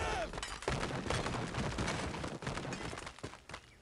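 Loud explosions and crashing debris in Angry Birds Reloaded, a chaotic barrage of bursts and shattering with a few sharper blasts standing out.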